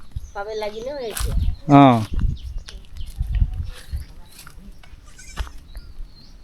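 Two baby goats bleat close by, each call short and wavering, one after the other, with people talking and footsteps around them.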